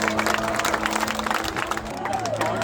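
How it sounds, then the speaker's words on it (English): Crowd applause breaks out at the Blackpool Air Show, a ragged burst of clapping and cheering under a public-address voice, with steady engine drone in the background. "Big round of applause for coming!"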